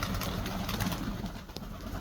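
Breeding pigeons in a loft coo softly and briefly, faint and low against a rustling background, with no talking.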